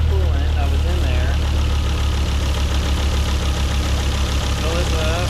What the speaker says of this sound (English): Listen to those valve springs.